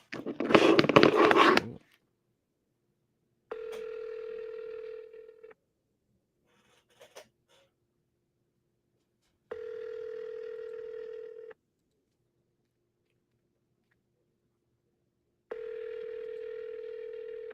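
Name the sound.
outgoing phone call ringing, forwarded to voicemail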